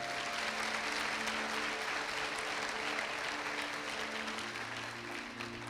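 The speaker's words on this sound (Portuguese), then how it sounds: "Então aplauda ao Senhor Jesus bem forte." A church congregation at a worship service applauds, a dense, sustained roar of clapping under steady background music tones, holding evenly throughout.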